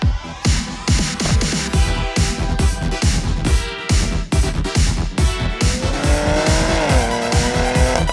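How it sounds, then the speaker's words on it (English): A 2022 Porsche Macan GTS performs a wet launch control start, its engine roaring loud and close as it revs hard through rapid gear changes, with rising engine pitch and tire noise, no talking over it. "'22 Porsche Macan GTS with wet launch control today."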